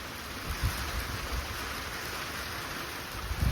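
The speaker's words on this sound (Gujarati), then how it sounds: "ધીમે ધીમે વરસાદ આવે છે" Soft, steady hiss of light rain falling, constant and fairly faint, with a few low thumps.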